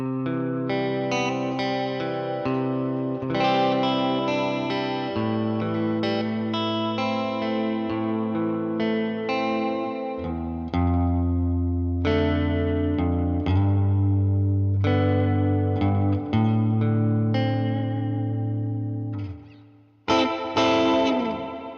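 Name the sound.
guitar through Purdy reverb pedal and tweed amp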